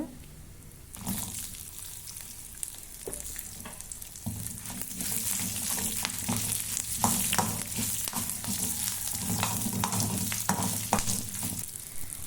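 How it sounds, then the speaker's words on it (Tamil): Dried red chillies, garlic and shallots sauté in hot oil for pirandai chutney, starting quieter then swelling into a dense, steady sizzle with stirring clatter close by and no voices. "மிளகாய் வற்றல் பூண்டு சின்ன வெங்காயம் சேர்த்து வதக்கிக்குங்க"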